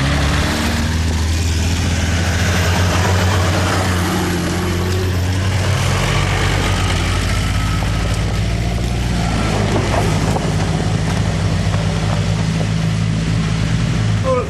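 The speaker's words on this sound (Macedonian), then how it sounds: "Специјален трактор, ова е шумски трактор" Forest tractor with its engine running, a loud, steady low rumble and drone held throughout, with voices talking over it.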